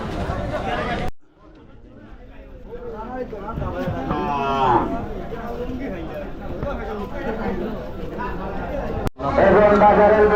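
Cattle at a crowded livestock market at Lalabazar, their lowing rising amid a steady hubbub of voices and chatter.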